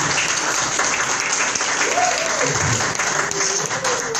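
Audience applause greeting a guest at a press conference: a steady, dense wash of many hands clapping throughout, with a voice speaking over it.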